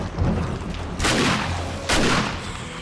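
Two loud, sharp shotgun blasts in the survival game 7 Days to Die, about a second apart, each a broadband crack with a short decaying tail over a low, steady game background.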